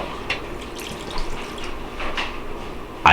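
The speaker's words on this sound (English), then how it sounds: "Gonna pour it in the barrel here." Bacon grease poured out of a drip tray into a barrel in a kitchen setting, making a steady close trickling pour that ends with a brief louder splash.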